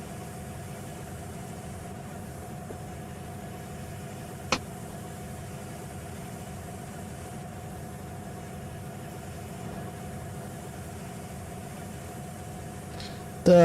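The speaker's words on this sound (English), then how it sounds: "The idle sound that you can hear right now is literally something I found off the toolbox" A locomotive engine idles in a Roblox train game, producing a steady, unbroken low drone with a humming tone at moderate level. One brief sharp click cuts through near the middle.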